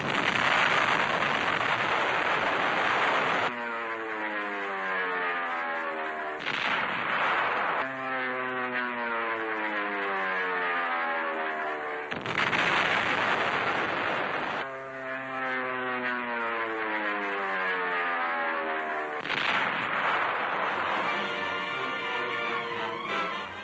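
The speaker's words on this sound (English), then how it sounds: "Now Mount Suribachi is smeared by Navy dive bombers." Aircraft engines drone and swell in repeated passes as Navy dive bombers attack Mount Suribachi on Iwo Jima in a 1945 wartime newsreel, the pitch sweeping down with each dive in a steady, loud, continuous roar.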